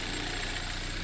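A Hyundai Veloster idles outdoors at a car show. It gives a steady, even engine drone with a low rumble, constant for the short stretch and unbroken by voices.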